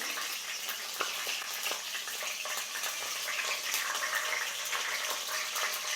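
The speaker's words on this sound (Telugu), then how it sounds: "ఆయిల్ వేడెక్కింది, ఇందులోకి ఎండుమిరపకాయలు వేసేద్దాము." Dried red chillies fry in about two tablespoons of hot oil for chicken chukka, making a soft, steady crackling sizzle with faint pops throughout, moderately quiet and uninterrupted.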